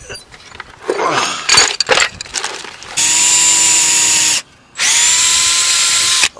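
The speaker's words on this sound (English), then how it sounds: "first of all, we will drill our hole." A power drill bores a hole into a roof to mount a solar panel, with two long, loud, steady high-pitched whirring runs separated by a short pause, preceded by some handling clatter.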